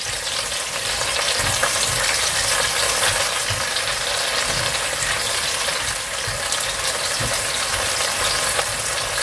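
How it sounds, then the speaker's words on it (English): Garlic and ginger paste frying in a pan as the base for rogan josh, a steady, dense crackling sizzle with faint stirring scrapes, close and continuous without speech. "And then we're going to put in our garlic and ginger paste. And let that cook off."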